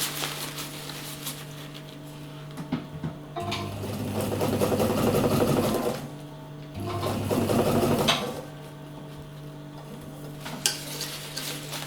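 Domestic sewing machine stitching fabric seams for a homemade stuff sack, running in two steady bursts of a few seconds each with pauses between, close and fairly loud, alone with no voices.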